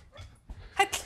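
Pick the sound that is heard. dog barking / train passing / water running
dog barking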